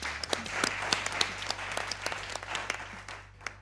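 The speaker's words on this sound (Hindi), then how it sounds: "तालियां होनी चाहिए।" Studio audience applause on a talk show, a steady patter of many hands clapping together at moderate volume. It fades slightly toward the end, with no voices over it.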